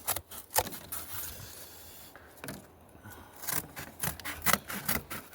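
Strips are cut for a homemade buddy burner, repeated close rasping and scraping cuts in uneven bursts with short pauses between, quiet and without talk.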